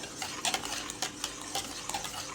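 Rice porridge (kanji) with greens being stirred in a pot, heard as a run of light, close scraping and clinking strokes at an irregular pace, with no voices.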